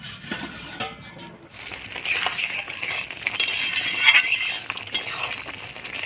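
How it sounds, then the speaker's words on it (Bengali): Pot lid lifted and pulao stirred in a cooking pot, with metallic clinks and scrapes of a utensil against the pot, irregular and close, some sharper clanks in the middle. "এবার ঢাকনাটা খুললে নাড়াচাড়া দিয়ে নিব"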